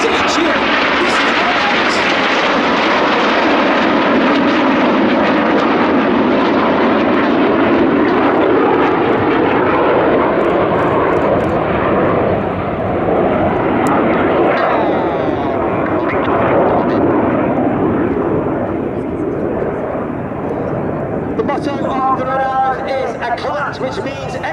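Red Arrows jets flying a formation display at the Duxford Battle of Britain Airshow, a loud continuous roar of jet engines throughout with a commentator talking over it.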